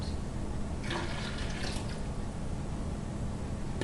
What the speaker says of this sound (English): Pour this one out.